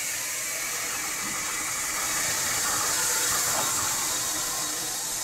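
Steam locomotive hissing steam in a steady, loud broadband rush heard from outside, continuous across the whole stretch with a slight swell near the middle.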